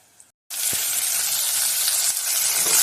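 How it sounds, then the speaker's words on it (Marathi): Onion tossed into hot oil in a pan with curry leaves and cabbage for a wild kantoli vegetable dish, bursting into a loud, steady hiss of frying after a brief moment of silence. "आता आपण यामध्ये कांदा टाकूया कांदा टाकून घेऊया"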